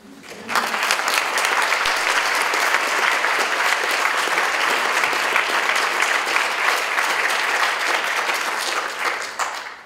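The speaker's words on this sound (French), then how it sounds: "vous inviter à l'applaudir puis à l'écouter" A French lecture audience applauds a guest philosopher as he is invited to speak, many hands clapping in a thick, steady roar that starts abruptly after a brief pause and holds evenly for nearly ten seconds before easing off.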